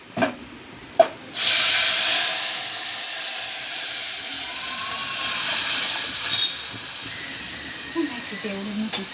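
Dal hits hot tempering oil seasoned with red chili, curry leaves and asafoetida for Kathiyawadi dal potli, bursting into a loud, steady sizzling hiss that holds for several seconds after a couple of brief knocks.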